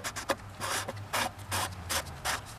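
Plastic oil filter housing on a 2012 Dodge Journey being screwed back in by hand, giving a series of short dry rubbing, rasping twists close up in quick irregular bursts.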